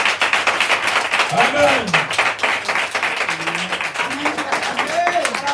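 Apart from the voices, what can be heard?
audience applauding at a church conference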